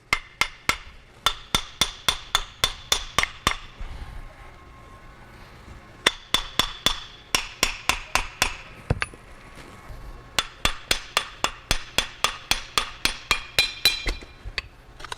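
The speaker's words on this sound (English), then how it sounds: "but we'll try hammer first" Repeated sharp metallic hammer strikes on a failed stock 5th-gen Cummins turbocharger housing ring out in quick bursts, pausing briefly between rounds, loud and close with a clinking ring after each blow.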